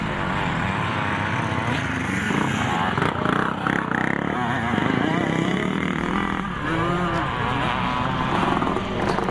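Several 1981 490 motocross motorcycles race at a classic nostalgia scramble, engines revving loud and continuous with rising and falling pitch as bikes pass, a commentator talking over the noise throughout.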